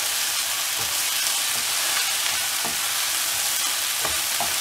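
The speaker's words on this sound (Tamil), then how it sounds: "இப்போ இதை நல்லா ஃப்ரை பண்ணிடலாம்." Fenugreek leaves and coriander frying in a hot pan, a loud continuous close sizzle with a few soft stirring knocks throughout.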